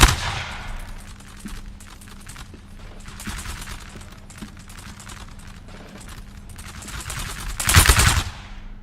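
Musket volleys and cannon fire in the Napoleon: Total War battle game, a continuous crackle of distant rifle fire with a heavy, loud blast near the end, no talk.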